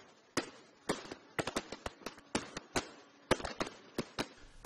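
Fireworks burst over Thessaloniki harbour at a New Year 2014 celebration welcoming the European Youth Capital: a rapid, irregular series of sharp, loud bangs and cracks, close together, with no voices.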